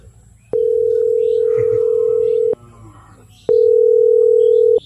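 An outgoing phone call rings on the line with two long, steady tones, each about two seconds and separated by a short pause, loud and clear over faint background noise.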